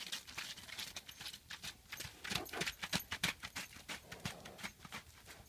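A horse trots with a brisk, even clip-clop of hooves, the sharp hoofbeats close and distinct, repeating rhythmically with a faint jingle of tack.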